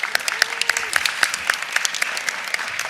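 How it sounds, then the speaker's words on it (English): A crowd at an honoring ceremony claps steadily, a dense patter of many hands applauding with no talking. "Give her a round of applause, please."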